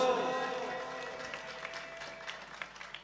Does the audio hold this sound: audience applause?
yes